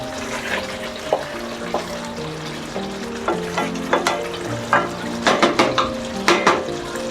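Green chillies being stir-fried into chicken korma, a spoon scraping and clanking against the pot in an irregular rhythm over sizzling, while soft instrumental music with sustained tones plays steadily underneath.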